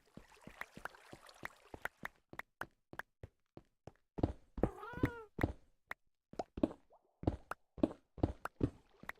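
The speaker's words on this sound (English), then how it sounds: "Oh, I think my cat's up there. It's like above us." A house cat meows once, a drawn-out wavering cry from the floor above, amid a series of sharp knocks and taps that come in irregular bursts.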